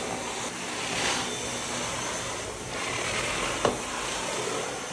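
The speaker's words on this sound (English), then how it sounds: "Here we go, we've got a vacuum cleaner everywhere." A Dyson vacuum cleaner runs steadily nearby, a broad continuous airy whoosh that swells and eases slightly, with a brief knock partway through.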